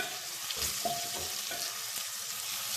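Onions fry in a pot as the base for a beef stew, making a close, steady sizzle with brief stirring scrapes and no talking.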